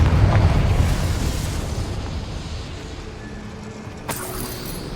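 A Confringo blasting curse from the Hogwarts Legacy video game goes off as a loud, broad rumbling explosion that decays slowly, followed by a faint sharp crackle near the end.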